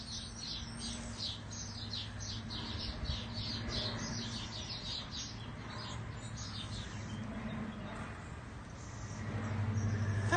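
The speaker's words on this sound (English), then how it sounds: "There's all those tiny birds." A flock of many tiny birds chirps in rapid, overlapping high tweets outdoors, steady and fairly faint throughout over a low background hum.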